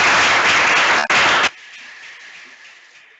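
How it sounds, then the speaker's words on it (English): Audience at a law moot prize-giving applauds the participating teams, with loud, dense clapping that briefly dips, resumes, then cuts off abruptly after about a second and a half, leaving quiet room tone. "I ask for a round of applause for all our participating teams"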